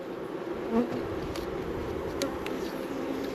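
Honey bees in a double brood hive colony make a dense, steady buzzing drone close to the microphone, continuous and even throughout with no speech.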